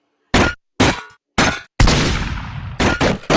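Gunshots ring out in a Five Nights at Freddy's animation: three sharp, loud blasts in quick succession, then a longer crash that rings and decays, followed by two more close bursts, with no talking.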